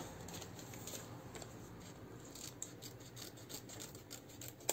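Scissors snip through ribbon around a motif on a winter greeting card, giving soft close crisp cuts in a quiet, steady sequence.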